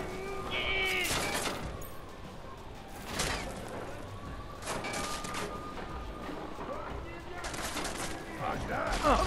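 Gunfire in the game Deus Ex: Mankind Divided, several sharp shots scattered over a noisy backdrop with game sounds and a voice talking.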